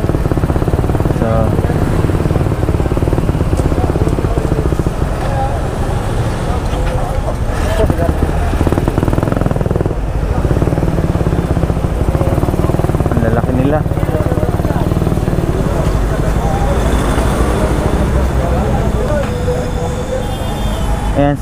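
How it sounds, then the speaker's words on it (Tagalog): Big BMW motorcycles pass along a road in Cavinti, Laguna, as a continuous rumbling roar of traffic that swells and fades. People can be heard talking beneath the noise. "May mga kasama siyang mga malalaking bike."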